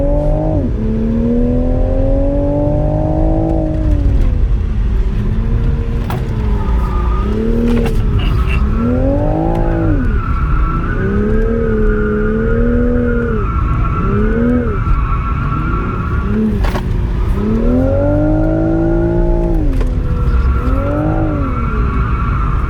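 A car drifting at a Barrett-Jackson Palm Beach thrill-ride event, its engine revving up and down in loud, repeated surges with tire squeal and skidding running continuously underneath, close and sustained.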